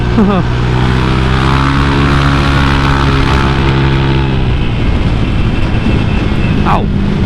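A motorcycle engine fitted with a BRT 63mm bore-up kit drones loudly while riding at speed, its humming engine tone mixed with heavy wind rush that grows rougher in the second half.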